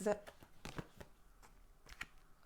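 Cartomancy cards being shuffled by hand in a quiet room, giving a series of soft, close riffling and slapping bursts spaced irregularly over a couple of seconds.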